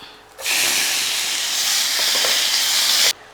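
Tomatoes dropped into hot oil with fenugreek, curry leaves and cumin in a tempering for an idli side dish burst into a loud, steady hiss and sizzle that starts abruptly, holds for about three seconds, then cuts off.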